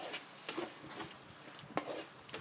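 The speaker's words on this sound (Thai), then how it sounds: "แล้วก็ผัดลงไปเลย" Chili paste being stir-fried with canned fish in a pan for Thai nam prik, soft scraping strokes of a utensil over a low sizzle, with a couple of sharper clicks against the pan.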